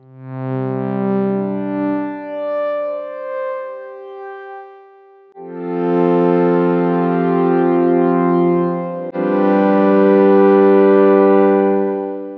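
A sustained, bright synth pad holds chords that swell and shift, with reverb tails blending the notes into a smooth wash; no voices.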